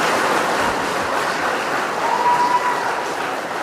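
A crowd at a university campus speech claps steadily and loudly throughout, a dense, even wash of applause with no voices standing out.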